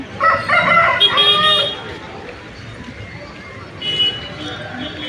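A rooster crows loudly nearby at the start, followed by quieter clucking and another shorter call toward the end.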